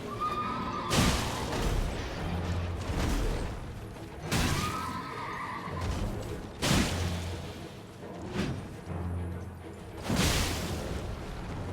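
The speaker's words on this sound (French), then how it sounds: "Encore un coup et son cheval tombe au sol." A horse neighs repeatedly in the Elden Ring video game as a mounted enemy is struck and falls, loud whinnies with crashing hits and booms between them.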